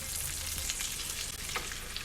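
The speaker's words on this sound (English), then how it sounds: "after my salmon has been going for about 3 minutes, I'm just gonna go ahead and just flip it over" Salmon fillet sizzling steadily in a hot pan as it is flipped over, a dense continuous frying hiss with a few brief scraping clicks from the turn, close and fairly loud.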